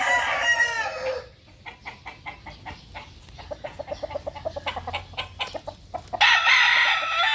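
A young gamefowl bullstag crows loudly at the start and again at the end, with a quick run of soft, rhythmic clucks in between, close and clear.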